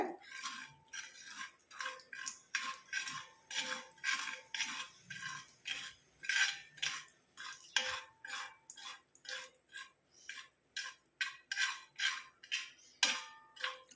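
Tea powder frying in a pan over a low flame while being stirred, giving a steady run of close, rhythmic metallic scrapes and clinks of the spoon against the pan, with no voice.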